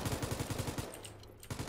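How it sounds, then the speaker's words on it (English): Rapid automatic gunfire in a multiplayer shooter video game: a fast, evenly spaced burst of shots for almost a second, a brief pause, then another burst starting, fairly faint. "I almost shot you in the back of the head"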